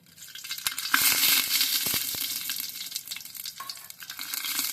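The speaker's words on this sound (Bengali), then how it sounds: "এবার দিয়ে দিচ্ছি অল্প করে সরষের তেল, দিচ্ছি 2টো তেজপাতা, একটা শুকনো লঙ্কা, অল্প জিরে।" Bay leaves, cumin seeds and a dried red chilli frying in hot mustard oil in a pot, a loud crackling sizzle with sharp spits and pops that gradually settles.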